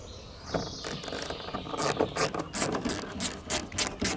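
A socket wrench ratcheting out a bolt on a Toyota Tacoma tonneau cover, rapid close clicking bursts in a quick uneven rhythm, loud and alone after a short quiet start.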